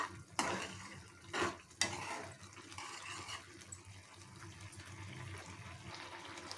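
Semiya kesari cooking down in a pan while a spoon stirs it, giving a few sharp metallic scrapes and clinks early on, then soft, steady bubbling and stirring at low volume with no speech.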